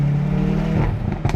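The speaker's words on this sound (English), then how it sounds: "you can hear those backfires, which are literally insane." A 2022 Hyundai i30N facelift with 8-speed DCT, 206 kW, droning loudly under acceleration, then a couple of sharp popping exhaust backfires near the end.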